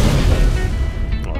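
An explosion from a dinosaur's ability in the video game Ark, a loud, dense, booming blast that rumbles continuously throughout, with a sharp crackle near the end.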